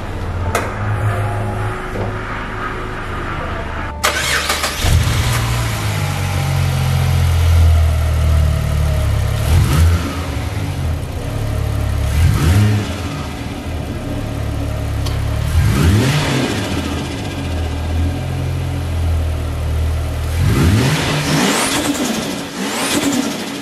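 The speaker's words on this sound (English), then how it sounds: "Did turn the car on just before and it sounds amazing." A Ford Falcon engine with a repaired throttle body (previous electronic throttle control fault) starts and idles with a deep, steady rumble, broken by several rising and falling revs, recorded close up with no talking.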